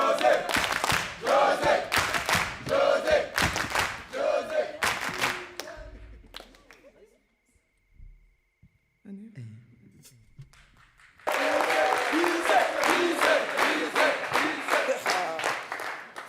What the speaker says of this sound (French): Merci d'applaudir.